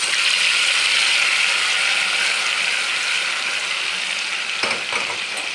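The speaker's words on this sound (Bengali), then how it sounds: "আলু ভাজা ডিম ভাজা ওই তেলেই আমি ম্যারিনেট করা মাংসটা দিয়ে দিলাম।" Marinated chicken sizzling in hot frying oil left over from frying potatoes and eggs, a loud, steady hiss and crackle that continues throughout, with a few scraping stirs near the end and no talk.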